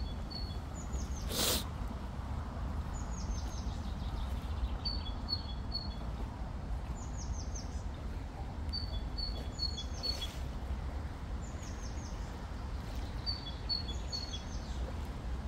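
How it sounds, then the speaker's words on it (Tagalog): A small bird sings repeated short, high chirping phrases from a mango tree at moderate distance, spaced every couple of seconds over a steady outdoor background hiss, with one sharp nearby click and no talk. "Yung ibon kumakanta-kanta."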